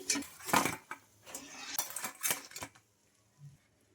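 Fried puffed-rice bondas are set onto a plate with several clattering clinks and scrapes of utensil against dishware, loud in bursts over the first seconds, then a quiet pause and one soft knock.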